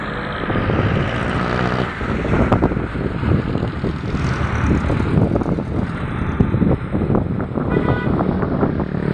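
Strong wind on an island buffets the microphone in a continuous roaring rush, with low rumbling gusts and no clear voices.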